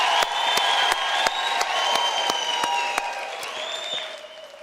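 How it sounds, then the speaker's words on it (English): At a University of South Africa autumn graduation, the audience claps for the educators in a warm, moderately loud round, with scattered individual claps standing out and a few cheers rising over the crowd. "a round of applause for our educators"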